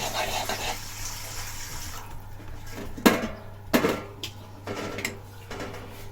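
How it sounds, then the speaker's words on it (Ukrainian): Ice-cold well water runs steadily for a couple of seconds, filling a container, then stops, followed by several sharp clinks and knocks of dishes or a pot nearby. "набираю льодяну воду"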